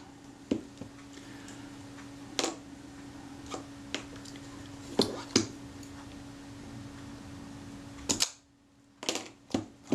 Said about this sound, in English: I've just released the film advance lever, let that go back to the rest position.